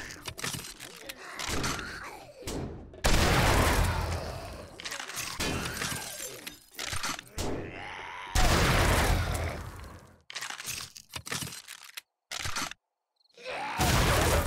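Loud, booming blunderbuss shots ring out in the video game 7 Days to Die, several blasts in quick succession with crashes and impact noise between them, close and dominant, with short quiet gaps.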